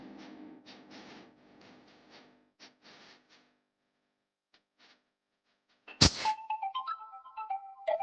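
A mobile phone ringtone melody breaks in suddenly, loud and close, after a stretch of faint, scattered sounds and near silence.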